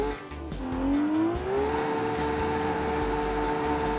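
Car drifting through a corner in BeamNG with a sustained, rising tire squeal over steady engine drone, loud and continuous for the whole stretch, no voices.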